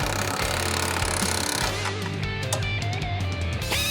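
A power tool chatters in rapid bursts as holes are drilled in the frame rail of a 1969 Camaro, loud and close, with short pauses between runs.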